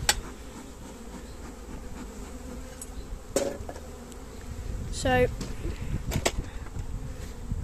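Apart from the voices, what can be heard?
bees buzzing while flying around a hive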